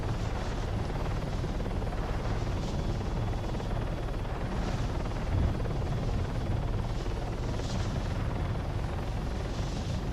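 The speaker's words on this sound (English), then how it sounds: "That might be an enemy heli." Enemy helicopter in a Vietnam war video game, a steady rotor drone and rumble holding at constant loudness for the whole stretch, with no talk over it.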